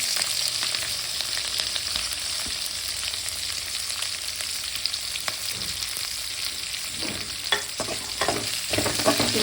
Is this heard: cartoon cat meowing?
no